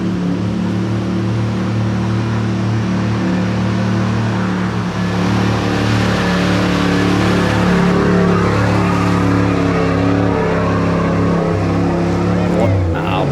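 A white Toyota Land Cruiser 79 drives through muddy ruts at Tannum, its engine loud and steady throughout, rising in pitch as it pushes on, with a voice speaking over it.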